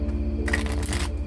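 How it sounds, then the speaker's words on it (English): Tarot cards riffled and shuffled by hand, a brief papery burst of flicking card edges close up, heard alone without talk. "I keep shuffling these"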